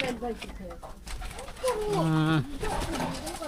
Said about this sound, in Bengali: দেখেন কবুতরটা ঠিক আছে